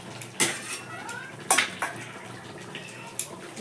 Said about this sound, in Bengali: ঘি দিয়ে ভালো করে নেড়ে ছেড়ে নেবো